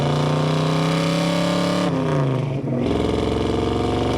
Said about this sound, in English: We'll get a little second, third gear pull for you.